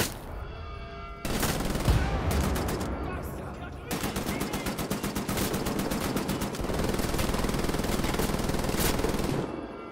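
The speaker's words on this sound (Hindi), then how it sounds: "भाई साहब कितनी गोलियां मारेगा?" Rapid machine gun fire rattles in long sustained bursts during combat in Wolfenstein: The New Order, loud and close, with brief pauses between volleys.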